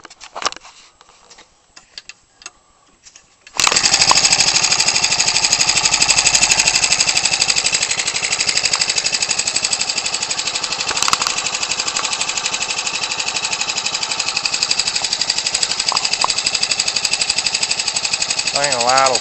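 Ryobi 29cc 4-cycle R/C aircraft engine swinging an 18x6 wood Zinger propeller, starting after a few seconds of quiet handling and then running loud and steady nearby without pause.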